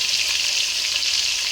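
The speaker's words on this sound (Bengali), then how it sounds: "এই যে 3টে ইলিশ মাছ আমি ভাজা করে নিচ্ছি এখন।" Three hilsa fish sizzle in hot oil in a kadai, a steady, dense crackling fry that holds at an even level throughout with no voices.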